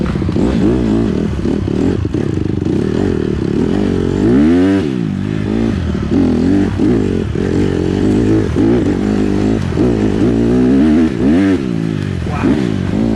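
A dirt bike engine revs hard and repeatedly while riding a trail, loud and close, with rising and falling throttle bursts over rough clatter.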